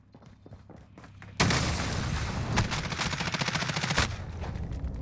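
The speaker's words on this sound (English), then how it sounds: "he threw C4 onto the car to get a bigger explosion" C4 detonated on a car in the video game Warzone. A sudden loud blast bursts in, followed by a dense, rapid rattle of gunfire and debris that stays loud to the end.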